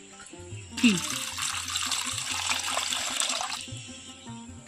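Water runs into a large bowl for rinsing shredded potatoes in a kitchen, a steady close rush lasting a few seconds before stopping, with a voice talking over it.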